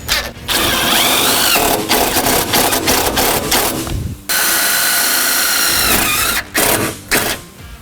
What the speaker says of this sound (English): take our Phillips head bit here and drill the self-tapping screws directly to our pilot holes